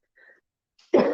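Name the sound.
cough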